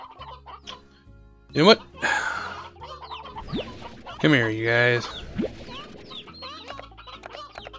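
Stony hens in the Slime Rancher game cluck in short bursts with a few louder squawks, close by, while someone talks over and between them.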